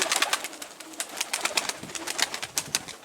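Pigeons coo repeatedly, close by, in soft rhythmic bursts layered with rustling and wing or movement sounds, with no speech.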